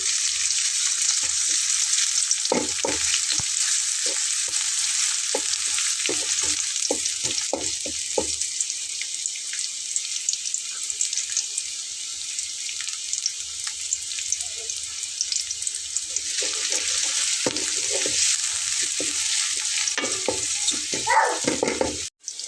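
Chopped onion and garlic fry in hot oil in a wok, giving a steady, loud sizzle with scattered clinks and scrapes of stirring throughout, and no voices.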